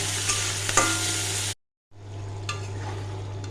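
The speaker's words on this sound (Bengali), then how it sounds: "চিংড়ি মাছটা আমি একটু জাস্ট নুন দিয়ে ভেজে নিচ্ছি।" Prawns frying in a pan with salt, a dense bright sizzle with stirring scrapes, cut by a short gap of silence before the frying resumes at a similar level.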